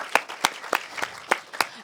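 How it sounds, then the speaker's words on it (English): Theater audience at a film screening Q&A, clapping in a brief sparse patter of distinct claps at an uneven rhythm, fairly close and light. "every round of applause for how beautiful the film was"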